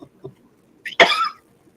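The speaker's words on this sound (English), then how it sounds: "It makes you cough." A single sharp cough bursts out after a sip of a cinnamon-flavoured drink, preceded by a couple of faint throat sounds and a brief intake, close and fairly loud.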